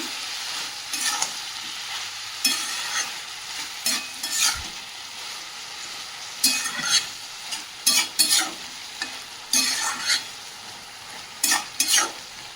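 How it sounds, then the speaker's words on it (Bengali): A spiced dish seasoned with salt and a little sugar is stir-fried in a pan: a soft, continuous sizzle broken by repeated sharp scraping strokes of a spatula at irregular intervals, close up with no voices. "আর দিয়ে দেবো সামান্য চিনি দিয়ে আবারও ভালো করে কষিয়ে নেবো"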